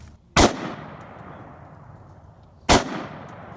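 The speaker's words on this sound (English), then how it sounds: "So the AR-15, that gun right there, I would say that's my favorite gun that I've shot so far" Two loud, sharp AR-15 rifle shots fired about two seconds apart, each cracking close and then fading in a long echoing tail.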